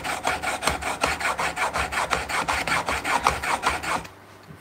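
A chisel is sharpened on a stone in a woodshop: steady, rhythmic back-and-forth scraping strokes, close and even, about four per second, then an abrupt stop.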